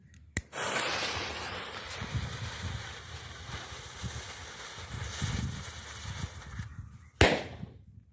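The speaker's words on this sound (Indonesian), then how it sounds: "berikutnya kita nyalakan petasan ubur-ubur" A jellyfish firecracker set off among other Indonesian fireworks, fizzing and crackling in a steady spray for several seconds, ending with a sharp loud pop near the close.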